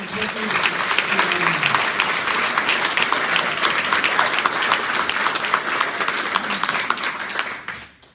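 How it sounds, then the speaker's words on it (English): Sustained audience applause at a hospital gift announcement event, a dense steady wash of many hands clapping at close range, continuing throughout and fading out at the very end, with faint voices underneath. "Let's give a round of applause."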